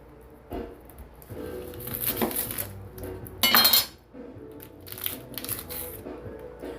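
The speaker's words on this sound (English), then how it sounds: "I really do not like cutting up vegetables" Fresh vegetables are chopped in a kitchen with close knife clicks on a board, crunchy cuts, and clinking of utensils and dishes, including one louder rattling burst.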